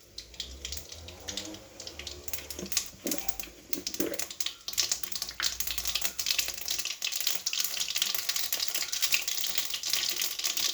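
Mustard seeds sizzle and crackle in hot oil for a gravy, a dense, close spitting hiss that grows louder and busier after a few seconds and continues to the end.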